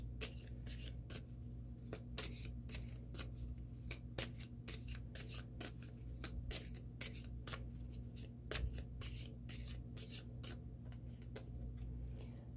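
A deck of tarot cards is shuffled by hand in a quiet room, a soft, rhythmic series of papery riffles and taps repeating over several seconds, faint and close, with a low steady hum underneath and no speech.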